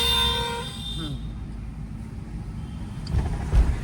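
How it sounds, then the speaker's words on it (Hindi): A car horn is held in a long press during a driving lesson on narrow lanes, a sustained tonal blare that cuts off after about a second, followed by road and engine rumble while a voice talks. "लॉन्ग हॉर्न प्रेस करो।"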